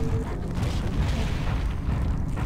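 A grenade launcher blast in System Shock 2 goes off at point-blank range, giving a dense, sustained low rumbling boom that fills the whole moment at steady loudness.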